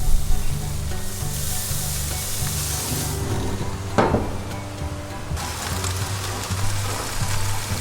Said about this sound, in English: Now you can stick your tofu directly onto the grill.